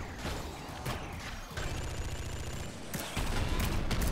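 Rifle fire in the top-down roguelike shooter Nuclear Throne, a dense, continuous run of rapid gunshots with crashes and game effects layered throughout, loud and steady with no talking.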